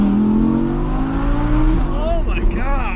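A loud, close 2020 Audi R8 Performance with a naturally aspirated V10 roars at full throttle, its pitch climbing sharply as it accelerates hard.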